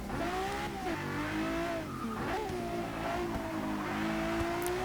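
Tires squeal under hard, late braking from a 2011 Ferrari FF in the Forza 6 racing game, a steady, loud skid blended with the engine's droning whine throughout.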